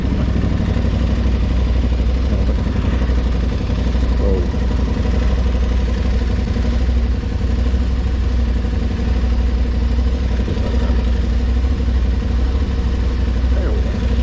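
Aprilia Tuareg 660 motorcycle engine on a test ride, a steady loud drone with wind rumble throughout, no pauses.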